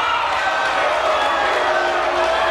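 A crowd at a boxing event jeers and shouts in a continuous, loud roar of many voices, with some whoops mixed in and no break in the noise.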